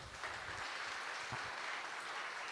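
Audience applause at a strategic and security dialogue session, a faint, even patter of clapping from a seated crowd heard from a distance, continuing steadily without pause.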